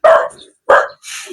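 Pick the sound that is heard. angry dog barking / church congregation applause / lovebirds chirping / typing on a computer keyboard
angry dog barking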